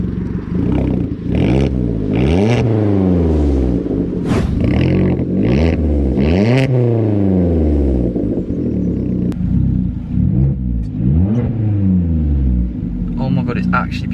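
Vauxhall Corsa fitted with a new loud aftermarket exhaust, revving hard in repeated rising and falling sweeps, close and very loud throughout, with a crackle near the end.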